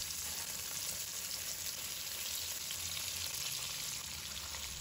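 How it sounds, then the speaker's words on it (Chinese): Tofu slices frying in hot oil in a wok, pieces left unmoved to set and brown on one side; a steady, dense sizzle runs close and even throughout with no speech. "把豆腐的一面先煎至金黄"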